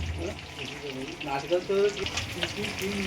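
Mirchi bajji chili fritters bubble and sizzle in hot oil, a steady close crackle with small pops, while a person talks over the frying.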